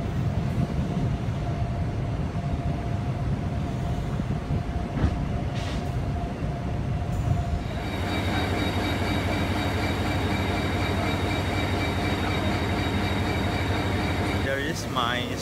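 Steady rumble and rattle inside a Malayan Railway intercity train carriage in first class, with a continuous rolling drone, a brief squeal near the end and a voice talking over it.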